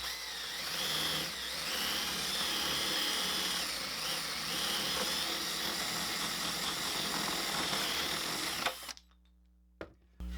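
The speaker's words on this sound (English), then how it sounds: "take a drill and a paddle bit and just drill it out here at the end." Power drill fitted with a paddle bit boring out the center of a piece of scrap wood, a steady loud whirring grind for about nine seconds that stops abruptly, followed by near silence and a brief knock.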